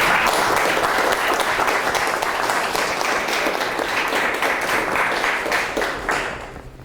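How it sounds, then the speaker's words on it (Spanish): An audience applauds at the close of a lecture on the quantum revolution, a dense, sustained burst of many hands clapping, loud and near, fading out over the last second. "un aplauso final"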